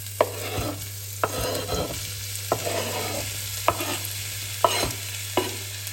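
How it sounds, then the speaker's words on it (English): Onion and garlic sizzle in ghee in a pan for butter chicken, a steady close fry with a spoon stirring and scraping at intervals, heard without talk. "Now we'll start by frying off the onion and the garlic into the ghee."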